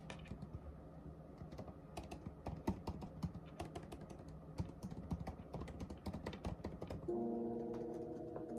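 Steady typing on a computer keyboard at a standing desk, a dense run of close, crisp key clicks with occasional heavier strokes, then a soft hum takes over near the end; no one speaks.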